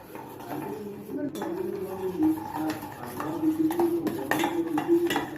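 Utensil clinking and scraping in a bowl while omelette ingredients with onions are mixed, irregular close taps and stirring chinks over a quiet background.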